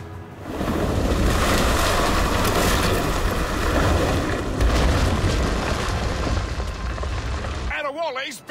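Ship cannons firing in the naval battles of Assassin's Creed Rogue boom over a steady roar of sea and wind, with shouted voices mixed in before a sudden cutoff.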